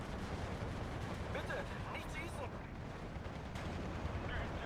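Sherman tank gunfire aimed at a StuG III in the World War II strategy game Steel Division 2, dense rumbling battle noise with scattered shot bursts throughout, a voice talking over it.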